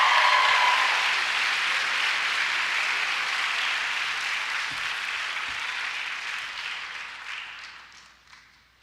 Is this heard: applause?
yes